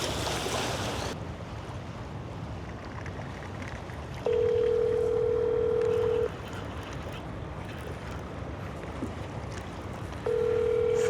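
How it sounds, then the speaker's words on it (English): A telephone rings aboard a sea bass fishing boat off Ocean City, Maryland: two long, steady electronic tones separated by a pause, heard over constant engine and water noise. "While the phone was ringing."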